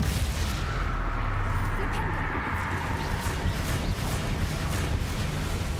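Rumbling magical blasts from a Bombarda exploding spell in Hogwarts Legacy, continuous booming and crackling bursts under a spoken voice, fairly loud and dense throughout.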